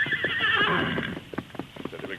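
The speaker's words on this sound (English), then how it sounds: "Call your horse, Tonto." A horse in an old Western radio drama whinnies loudly and shrilly, followed by a few hoof clip-clops, with a voice speaking over part of it.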